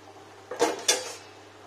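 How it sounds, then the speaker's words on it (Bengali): A cooking pot lid lifted off during a vegetarian cabbage and potato dish, giving two short metallic clanks about a third of a second apart, close and fairly soft in a quiet kitchen. "তো এখন ঢাকাটা খুলতে হবে"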